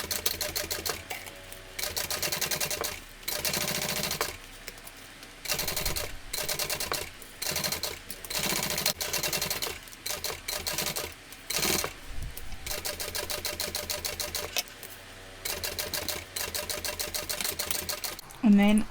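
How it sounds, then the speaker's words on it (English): A sewing machine top stitching a tote bag in bursts of fast, rhythmic needle chatter separated by short pauses, close and clear. "I'm going to do 2 rows of top stitching"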